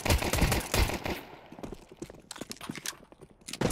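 Rapid automatic rifle spray in Counter-Strike on the Mirage map, a dense burst of sharp clattering shots, then scattered shorter bursts and single cracks, loud and close.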